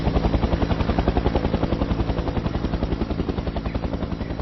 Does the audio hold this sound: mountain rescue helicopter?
yes